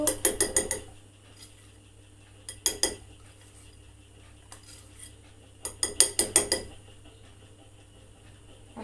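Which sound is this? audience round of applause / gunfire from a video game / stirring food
stirring food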